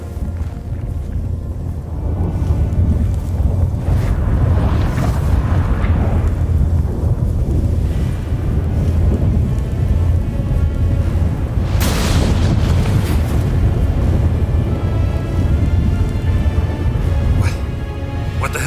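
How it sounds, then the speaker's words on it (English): Storm in The Witcher 3 with rolling thunder and gusting wind, a loud continuous roar and rumble throughout with a sharp crack around the middle. "That a storm?"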